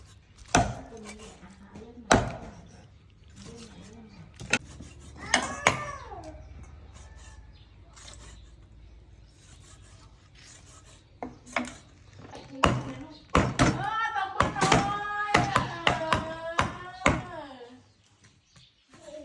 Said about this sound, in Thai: นี่สับให้ละเอียดเลย